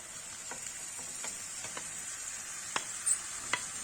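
Leeks sautéing in a pan with tomato paste give a quiet, steady sizzle, broken by a few sharp scrapes and taps of a stirring utensil against the pan, with no voices.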